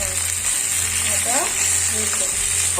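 Tomato and onion sizzle steadily in a pan for paneer curry, a close, continuous crackling fry with faint stirring scrapes throughout.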